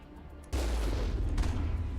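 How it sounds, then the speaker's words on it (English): The Mako vehicle's machine gun in Mass Effect opens fire after a quiet moment, a loud sustained burst of rapid rumbling gunfire that continues steadily to the end, close and unaccompanied by speech. "Left mouse button fires its machine gun."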